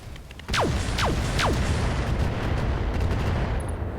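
Gauss rifle shots in the mech combat game RogueTech, three sharp firing bursts about half a second apart that start abruptly, sitting over a loud, steady rumbling battle roar that carries through to the end.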